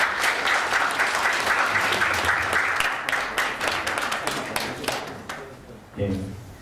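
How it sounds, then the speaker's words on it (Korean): A crowd applauds an award winner at a startup weekend results ceremony, with steady, dense clapping filling the room for about six seconds before fading, then a brief voice and a few scattered claps at the end. "네, 박수 부탁드릴게요."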